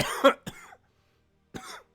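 Three sharp coughs close to the mic, the first two in quick succession, then a pause of about a second before a final cough.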